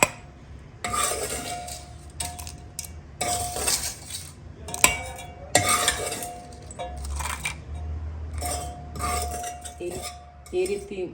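Fried ingredients get scooped into a mixer jar, with scattered metallic clinks and scrapes of a spoon against steel and a few sharper knocks, close and uneven.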